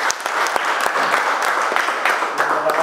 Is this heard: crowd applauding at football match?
yes